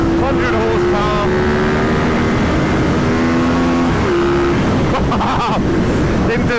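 A 1990s Ducati 916 sport motorcycle engine pulling hard at full throttle toward 11,000 RPM, its rising whine steady and loud with wind rush, and a rider talks over it.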